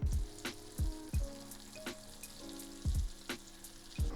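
Breaded crab cakes fry in a pan with a steady, close sizzle, broken by soft low thumps that repeat at regular intervals.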